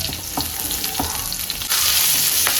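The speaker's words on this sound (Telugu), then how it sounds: "ఒక టేబుల్ స్పూన్ ఆయిల్ వేసుకొని ఇప్పుడు పచ్చిమిర్చి వేయించుకుందాము" Green chillies fry in a tablespoon of oil in a kadai for gongura pickle, a steady close sizzle with a few stirring scrapes, the hiss swelling louder and brighter partway through.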